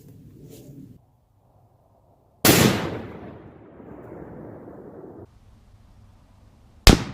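Two loud, close rifle shots at an outdoor range, a .338 Lapua Magnum and a .50 BMG fired at paper plates, each a sharp blast, the first trailing a long rumbling echo, set apart by several seconds of quiet.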